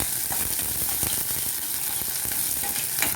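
Shallots, garlic and peanuts stir-fried in a pan for radish chutney, a steady close sizzle of hot oil with scraping stirs throughout, no voices.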